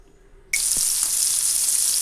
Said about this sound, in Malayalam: അപ്പോൾ അതൊന്ന് പൊരിച്ചെടുക്കുന്നുണ്ട്.